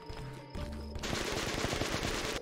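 A rapid burst of shots sounds at a video game shooting gallery for knocking down ducks, with a fast rattling volley starting after a brief tonal game jingle.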